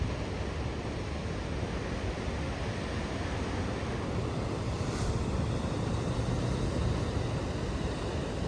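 Ocean waves surge against a beach in Java, a dense, steady roar of surf and wind that fills the whole stretch without pause, loud and close.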